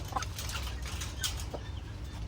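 Chickens in a garden give soft clucks and rustle their wings over a low steady background hum, close by, short and irregular, with no voices.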